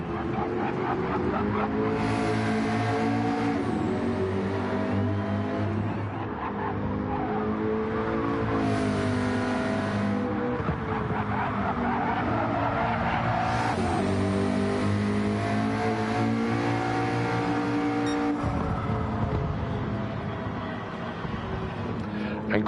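A McLaren GT3 race car in a Gran Turismo-style Gr3 race at Catalunya revs loudly and steadily, with gear shifts and tyre squeal, plus other cars roaring past close by.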